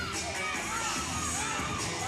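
A wrestling crowd at an SEC championship ladder match cheers and shouts in a dense, steady roar that fills the whole moment.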